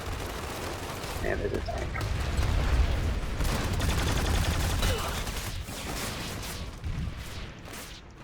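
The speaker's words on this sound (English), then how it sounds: "A lot of snipers shooting into this valley. There's multiple snipers." Sustained gunfire and explosions from snipers and other combat in the video game Planetside 2, a dense continuous barrage with booms, while a voice talks over the noise.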